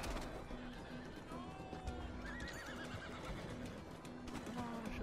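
A horse in the video game Red Dead Redemption 2 neighs repeatedly amid clip-clopping hooves and a busy game soundscape, with a steady hum underneath.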